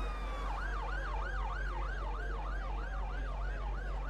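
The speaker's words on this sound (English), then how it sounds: "Then you have the ambulance. Oh yeah. The ambulance now." An ambulance siren wails in the London bus simulator OMSI 2, a steady rising-and-falling cycle repeating about every third of a second, moderately faint over a low engine hum.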